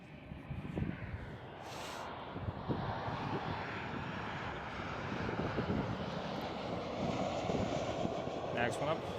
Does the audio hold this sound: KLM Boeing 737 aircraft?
yes